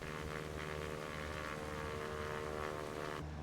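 Steady drone of a Cessna 172 single-engine propeller aeroplane climbing just after takeoff, heard from inside the cabin as a constant loud hum with no talking.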